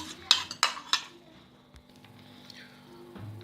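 A spoon clinks sharply against a bowl three times in quick succession while yogurt is stirred into katori chaat, then softer scraping and handling noises follow, close by.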